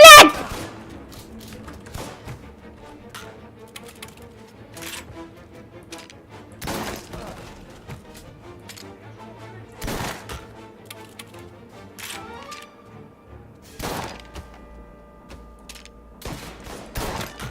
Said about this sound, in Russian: Нихуя себе он стреляет